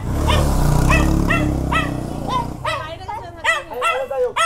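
A small dog barks repeatedly in sharp, high yips along a roadside in the hills, several close barks in an irregular run, with people talking over the first part.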